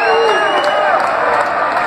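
Crowd cheering at an Olympic judo bout in Arena Carioca 2, a dense, loud roar of many voices with whoops rising over it, close and continuous.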